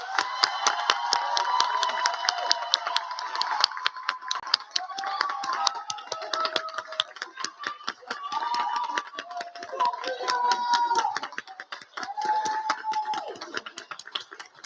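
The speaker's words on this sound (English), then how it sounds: "let's give a warm round of applause for our wonderful graduates." A crowd at a theatre and performance commencement ceremony claps steadily for several seconds for the graduates, a dense patter of many hands, with some voices talking over the applause.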